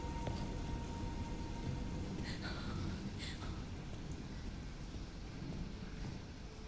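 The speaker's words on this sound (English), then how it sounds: "Damn, it is a spooky ass storm." Video-game thunderstorm with steady rain, a dense low rumble and hiss of downpour running throughout, with a few faint higher clicks and knocks scattered over it.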